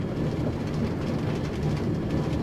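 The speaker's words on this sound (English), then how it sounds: "As you can see, the train is almost there." A Minecraft train rolls in toward a station with a steady, dense rumble and faint rhythmic clatter, continuous and fairly loud, with no voices.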